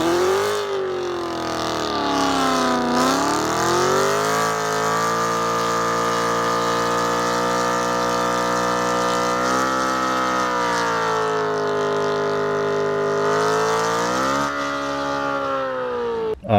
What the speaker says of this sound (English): I did do a quick little burnout